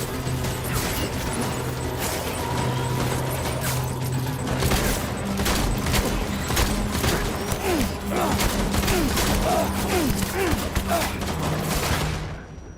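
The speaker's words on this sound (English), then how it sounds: "Shotgun." Repeated gunfire in the video game Death Stranding, with sharp shotgun-like blasts spread through a dense, continuous backdrop of game noise and tones, with a voice talking over parts of it.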